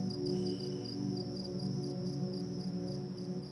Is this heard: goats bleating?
no